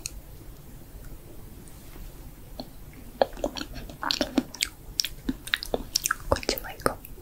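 Chewing and biting in a Japanese eating role play, close, crisp wet mouth clicks and crunches in irregular bursts that thicken toward the end, with soft whispered voice.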